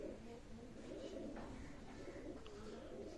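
Pakistani high flying pigeons coo softly in a loft, low murmuring calls repeating quietly with a faint background hum and no clear speech.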